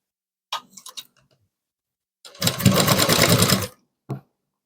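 A sewing machine stitching the neck piece of a size 34 blouse runs in one steady, loud, close burst of about a second and a half. Faint clicks and handling noises come before it and a brief click after.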